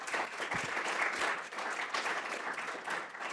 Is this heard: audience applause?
yes